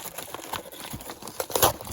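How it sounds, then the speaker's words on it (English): Cardboard and plastic packaging from a coin shipment being torn open by hand, with a rapid run of close crinkling and ripping bursts that grow louder toward the end. "I don't have scissors with me today, so I'm just going to have to kind of go caveman style and rip it open"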